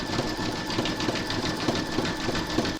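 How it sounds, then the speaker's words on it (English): Embroidery machine zigzag stitching around the raw edge of a trapunto sunflower tissue box cover centre, a steady close motor hum with a fast rhythmic needle pulse running throughout. "you're going to stitch round number 4, and that's going to zigzag the raw edge of the centre"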